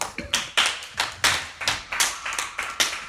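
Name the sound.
audience clapping for a speaker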